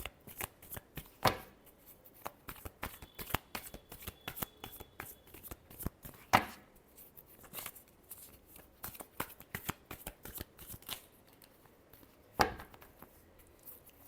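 Tarot cards are shuffled by hand again and again, making quiet, close rustling riffles and soft slaps. Several sharper snaps stand out from the steady shuffling.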